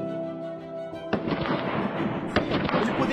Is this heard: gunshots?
yes